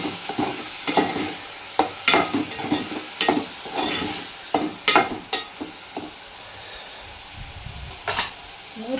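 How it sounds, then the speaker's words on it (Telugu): Onion curry cooking in a pan with salt, turmeric and chili powder, stirred with repeated scraping strokes over a steady sizzle, close and fairly loud, with no talking. "ఉప్పు, పసుపు, కారం వేసి సిమ్ములో ఉంచి మగ్గనివ్వాలండి"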